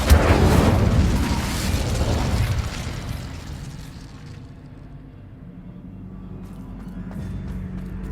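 Incendio fire spell cast in Hogwarts Legacy, a loud fiery burst and roar that fills the first seconds before fading into a low ambient hum with faint crackles.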